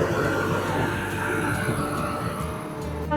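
A loud, steady mechanical rumble of a train departing a platform in Kolkata rolls on without a break, dense and low, with faint clanks toward the end.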